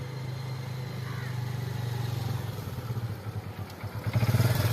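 A motorcycle engine idling and revving on a road, a steady low hum that grows into louder pulsing throbs near the end as it comes closer.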